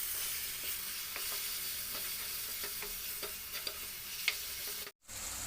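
Chicken being mixed with masala: a close, continuous wet stirring and squishing with light scattered clicks, steady throughout before a brief dropout near the end.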